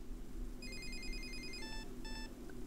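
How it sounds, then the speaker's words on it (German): A Samsung Galaxy SmartTag 2 key finder plays a short electronic ringtone of bright beeping tones in quick sequence, faint over a low steady hum. "Ihr könnt die Lautstärke verändern, die der SmartTag abspielt und auch den Klingelton."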